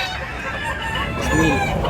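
Roosters cluck and crow at a chicken market in Tabunok, Cebu, close and continuous, with busy market noise around them.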